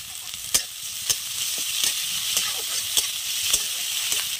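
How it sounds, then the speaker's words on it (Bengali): Chicken sautéing in a pan with chopped onion, green chili and ginger-garlic paste, a steady close sizzle broken by several sharp scrapes and clacks of a stirring spoon. "দিয়ে আমি চিকেনটা একটু কষিয়ে নেবো। দিয়ে দিলাম পেঁয়াজ কুচি, একটু কাঁচা লঙ্কা দিয়ে দিলাম কুচি, আদা আর রসুন বাটাটাও দিয়ে দিলাম"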